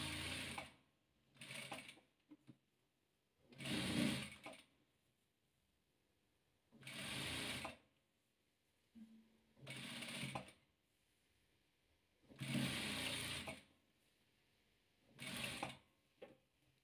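Patchwork quilt rows being stitched together on a sewing machine, heard as repeated bursts of fast mechanical whirring separated by short pauses, close and clear with no talking.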